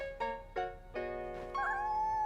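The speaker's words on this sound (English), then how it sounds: "It's a kitten!" A cartoon kitten's meows, four rising cries in quick succession, close and clear with the last drawn out longest.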